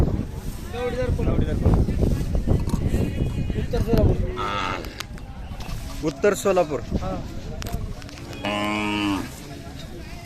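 Khillar cows at a cattle and bull market in Sangola, Solapur, give several close, drawn-out moos over a busy background, with people talking and wind buffeting the microphone.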